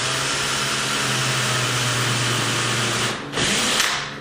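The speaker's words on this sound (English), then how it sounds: "So I'm going to be taking my drill bit, and as you can see, I'm going to be angling it in that direction." A power drill bores into a wooden door jamb while a deadbolt is being installed, its steady motor whine holding for about three seconds, dipping briefly, then spinning up again.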